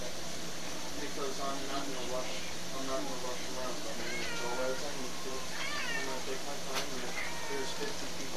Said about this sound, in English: My cat's right behind me climbing her cat tree.